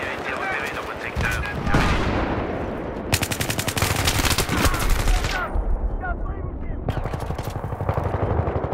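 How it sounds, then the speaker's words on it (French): Battlefield 3 online match on the Caspian Border map, with dense gunfire in the game: rapid machine-gun bursts and single shots mixed with explosions, loud and close, over a busy battle background. "Un snipe là qui me tire dessus."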